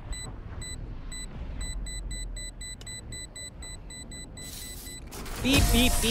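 Valorant's planted spike beeps in a steady, evenly spaced electronic pulse, loud and clear over low game ambience, ending in a burst of noisier in-game sound.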